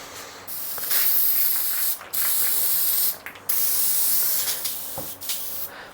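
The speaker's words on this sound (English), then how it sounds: "as I try and find my squirter bottle to rinse it" A squirter bottle sprays water in repeated bursts to rinse out an airbrush, giving loud, close hissing jets broken by short pauses.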